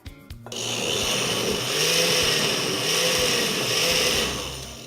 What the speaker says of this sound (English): So we're gonna pour that into the blender.